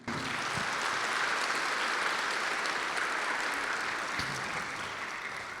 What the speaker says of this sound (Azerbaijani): ən gür alqışlarla təbrik edirlər